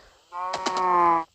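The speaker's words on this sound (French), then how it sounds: "Avec mes chers amis les vaches." Cattle in a survival video game give a single loud, drawn-out moo lasting about a second, close and clear with nothing else around it.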